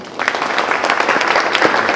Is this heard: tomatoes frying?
no